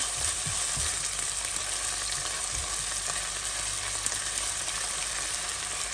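Ginger garlic paste frying in a pan with a continuous, dense sizzle. A couple of soft low knocks from stirring come through early on.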